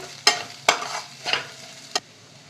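Four distinct scraping strokes of a spoon stirring turmeric into frying potatoes in a pan over a soft background sizzle, spaced roughly half a second apart.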